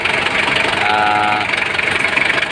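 A Mitsubishi 4M40 diesel engine, freshly broken in after manifold repair, runs at a steady idle close by with a loud, even knocking rumble.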